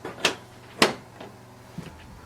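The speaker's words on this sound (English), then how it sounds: "now we close this door." Plastic door on a Canon PIXMA TS3350 printer being closed, a few light clicks and soft knocks, two sharper taps followed by quieter ones, close up with no talking.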